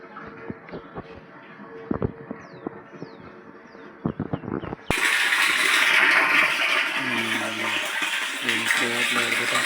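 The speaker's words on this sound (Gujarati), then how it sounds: "હાલે પાણી આવ્યું લાગે" Water pumped by a motor gushes out of a pipe, starting abruptly after a few scattered knocks and bird chirps and then pouring steadily and loudly, with voices in the background.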